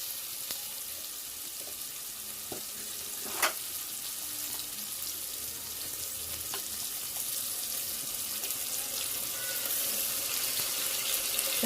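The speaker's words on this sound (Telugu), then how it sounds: "ఇప్పుడు కొంచెం వేసుకొని ఫ్రై చేసుకుందాం." Ginger garlic paste sizzling in hot oil in a pan, a soft steady frying hiss with occasional sharp clinks and stirring scrapes, fairly quiet and continuous.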